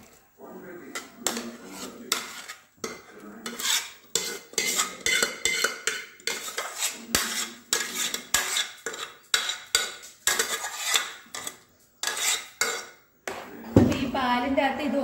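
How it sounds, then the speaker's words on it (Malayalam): Bamboo rice tipped into coconut milk in a pot, with repeated clinks and scrapes of a metal spoon against the vessel in busy irregular bursts, close by, and a voice speaking intermittently over them. "കുറച്ച് തേങ്ങാപ്പാൽ കൂടി ഒഴിച്ചിട്ട് ഈ വന്ന മുളയരി ഇതിലേക്ക് ഇട്ട് കൊടുക്കാം"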